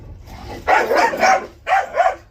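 A dog barks in two harsh, close bursts, the first a quick run of three rough barks and the second a shorter double bark, loud over faint background noise.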